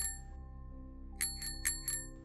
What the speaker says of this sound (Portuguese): E então começou a tocar o barulho da campainha da bicicleta.